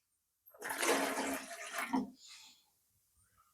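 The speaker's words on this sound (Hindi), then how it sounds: "जितना कप आप चाय बनाना चाहते हैं उतना कप पानी इसमें डाल दीजिए" Water pours into a pot for masala chai, a loud rushing splash lasting about two seconds, then fading into quieter trickles before a brief clunk at the end.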